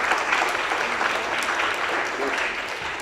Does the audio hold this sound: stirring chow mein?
no